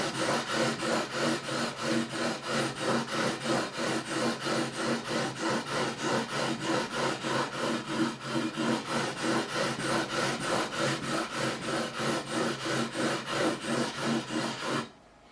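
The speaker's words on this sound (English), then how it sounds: "We're now going to go with the 400 grit just to smooth these over, make the scratches less scratchy." Guitar frets on a Harley Benton RB-600 Rickenbacker replica are sanded with 400 grit sandpaper in fast, steady back-and-forth rubbing strokes, close and even, stopping abruptly at the end, with no talking.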